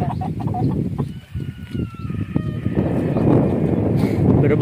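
Chickens cluck and call close by, one rooster-like cry rising above a busy, continuous farmyard background.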